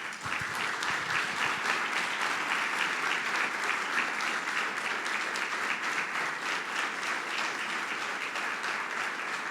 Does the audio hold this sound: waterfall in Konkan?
no